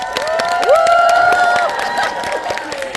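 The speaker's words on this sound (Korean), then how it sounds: "장항준님께 박수 한번 치고" An audience at a film screening Q&A gives a brief burst of clapping, with a few cheering or whooping voices over the claps.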